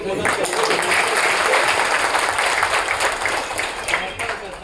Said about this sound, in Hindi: जोर से ताली बजा के